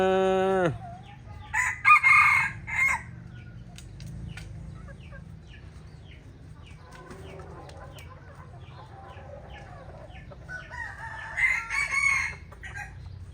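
A rooster crows loudly and close, two drawn-out calls near the start and end, with clucking fowl and faint background chatter between.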